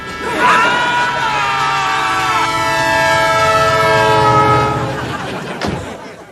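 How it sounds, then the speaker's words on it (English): A train rumbles past with a long, loud, sustained multi-tone horn blast, ending in a sharp clank as the cars roll by. "But I want to beat that train to the crossing."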